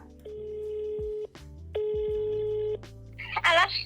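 A telephone call being placed: a quick burst of dialing tones, then two long, steady ringback tones separated by a short gap, with a brief voice coming in at the end.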